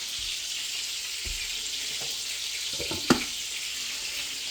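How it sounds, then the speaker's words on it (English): A big chunk of butter melting in a pot after draining potatoes, a soft steady sizzle with a few faint clinks and one sharp knock of a utensil against the pot. "Now we're going to put a big chunk of butter in there and allow it to melt."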